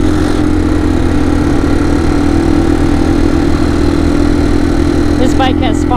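A Yamaha TW200 motorcycle engine pulls steadily in third gear on an adventure trail ride, a loud continuous droning hum close up, with a few faint clicks near the end.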